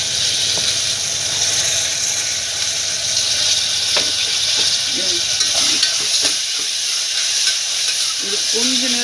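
Food sizzles steadily in a hot pan, a constant bright hiss with occasional scraping and stirring clinks, close and even throughout.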